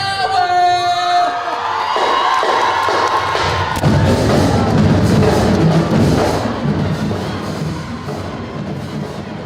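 A large crowd at a high school Black History Month assembly cheers, whoops and shouts for Howard University drum majors, a loud, continuous roar that swells and then tapers slightly across the clip.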